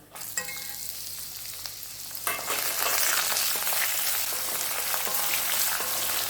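Onions sizzle and crackle steadily in a hot pan, with light stirring scrapes, and the frying grows louder and fuller partway through.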